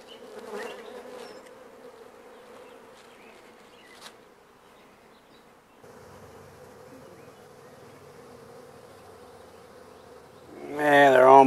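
A honey bee swarm drones steadily around a tree, a dense continuous buzz that holds at moderate level throughout, with a louder, closer burst of buzzing in the final second.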